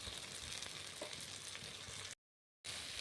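Spice paste with chilli powder fries in a pan, giving a steady, fairly quiet sizzle with a faint stir near the middle, then a brief full silence before the frying resumes.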